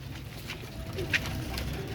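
Royal Teddy pigeons in a loft give soft, low cooing calls over a steady background rumble, with one brief sharper note partway through.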